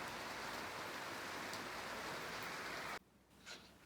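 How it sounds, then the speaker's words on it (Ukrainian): Light, steady rain falls in a dense, even hiss that holds for about three seconds, then cuts off abruptly, leaving only faint background sound. "Мілкий, добрий дощ."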